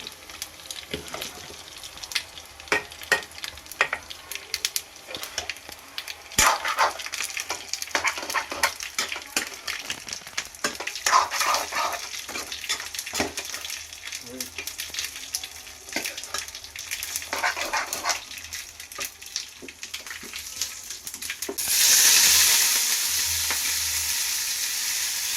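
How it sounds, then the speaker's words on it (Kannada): Spices for a bassaru tempering crackle and sizzle in a hot pan, with scattered stirring taps and pops, ending in a sudden louder, sustained hiss. "ಒಗ್ಗರಣೆ ರೆಡಿ ಈಗ."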